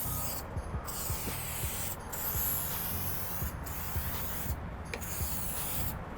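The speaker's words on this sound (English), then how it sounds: "give your windows a good spray." Silicone spray hisses from an aerosol can onto the rubber seals of motorhome windows, coming in several short bursts between pauses, close and fairly quiet.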